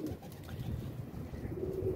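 A young pigeon, a hatchling caught from a rooftop, gives soft low cooing murmurs, close to the microphone and steady for about two seconds, with no talk over it.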